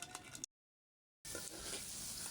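Semolina kalojam sweets frying in lukewarm oil in a wok, a faint, steady sizzle with a short gap of silence in the middle.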